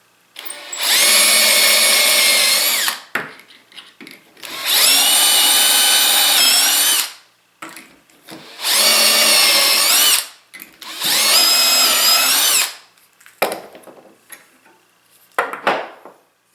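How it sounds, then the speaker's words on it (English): A power drill whines loudly in four long bursts of about two seconds each, with short pauses between, then a brief final burst, drilling holes in wood. "I'm just going to drill these 2 holes."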